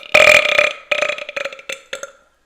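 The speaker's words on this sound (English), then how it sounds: "I couldn't have done a better burp wearing Buddy the Elf." A loud, close, drawn-out human burp that rumbles in several gurgling pulses, starting strong and tapering into shorter croaks before stopping.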